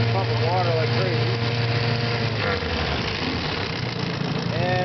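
A 1971 Evinrude Sportwin 9.5 hp outboard motor runs with a steady mid-pitched idle and a slight knocking buzz, close by, while someone talks over it.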